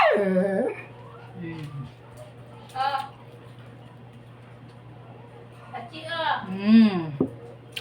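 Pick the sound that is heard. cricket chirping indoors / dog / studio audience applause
dog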